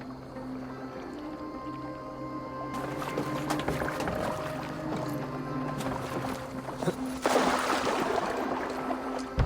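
A boat moving across water in the video game Assassin's Creed Valhalla, with steady lapping and splashing that swells toward the end, layered under a sustained, droning musical score.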